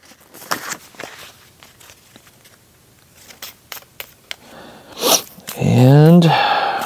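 A deck of game cards is riffle-shuffled at a table during a board game, a close, dense ripping flutter near the end following soft handling taps and rustles.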